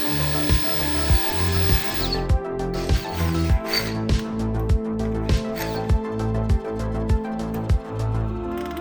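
A spot weld drill bit bites into the car body metal on a Toyota Altezza radiator support, close and loud, with a steady grinding whir broken by regular sharp knocks about twice a second.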